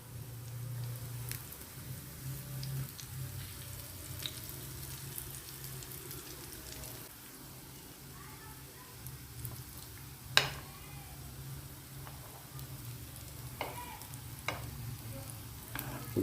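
Carrot dal vadas frying in hot oil, a soft continuous bubbling sizzle with a low hum beneath and a few sharp clicks and scrapes as the fritters are turned over in the pan.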